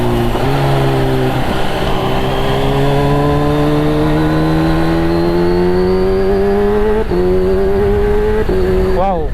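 A 2022 Kawasaki Ninja H2 accelerates hard, its engine pitch climbing steadily through several quick-shifter upshifts with brief dips between gears, loud and close under continuous wind roar.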